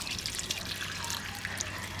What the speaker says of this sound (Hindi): तो मैं इसको पानी दे रही हूँ बहुत अच्छे से, जब तक पूरा ना भीग जाए हो।